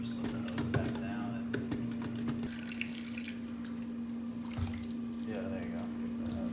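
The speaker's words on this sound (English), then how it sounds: "we'll run some more water through there" Water runs steadily from a hose through a tank during hand processing of 16mm film, a continuous wash with soft drips and splashes, close by, over a persistent low hum.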